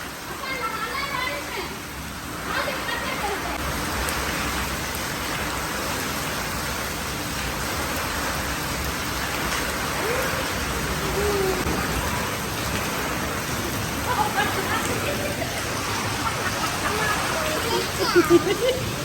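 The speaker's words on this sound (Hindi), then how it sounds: "बारिश आ गई है" Heavy night rain hisses throughout a storm, a dense even patter, with children's voices and chatter audible now and then beneath it.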